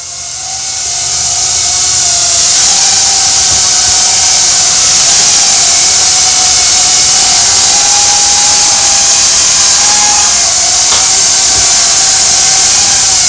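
Propellers of a cheap $60 Temu drone spin hard enough to blow everything off a table. A loud, steady whine and rushing wash ramps up over the first couple of seconds, then holds with slight pitch wobbles.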